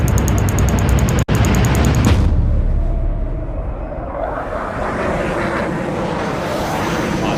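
A loud airplane roars steadily, then cuts abruptly and shifts after about two seconds into a lower, quieter rumble that carries on to the end.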